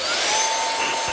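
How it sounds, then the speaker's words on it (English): SUNPOLLO 2-in-1 air duster and vacuum running on its vacuum setting, giving a steady, loud, high-pitched motor whine with a constant tone throughout. "the vacuum gets even stronger and it doesn't protrude any air out of here"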